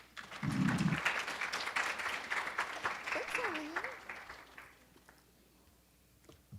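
Audience applause welcoming someone speaker to an evening lecture, a sustained wash of clapping from a sizable crowd that swells, holds for several seconds, then fades out, with a brief low vocal sound mixed in.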